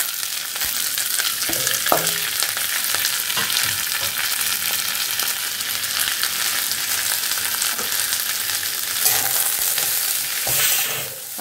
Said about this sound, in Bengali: নিয়ে এই সবজিগুলো সব দিয়ে দিচ্ছি।